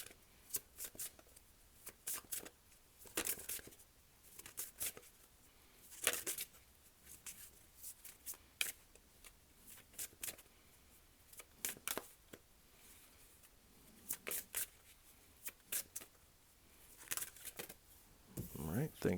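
Tarot cards are shuffled in repeated quick bursts of soft riffling and flicking, close but quiet, separated by short pauses.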